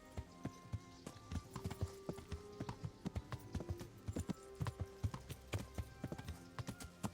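Steady horse hoofbeats from the video game Kingdom Come: Deliverance clip-clop at a trotting rhythm, crisp and close, with a faint musical tone underneath.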